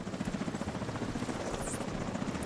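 Helicopter in a video game: a steady, rapid rotor chop thumps continuously for a few seconds, moderately quiet and alone with no talk.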